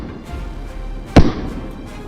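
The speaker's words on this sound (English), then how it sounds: "a furious round of gunfire erupted, relentlessly pursuing each one" A single sharp gunshot crack during a wild boar hunt in a swamp, loud and sudden against low outdoor background rumble, with a short decay after it.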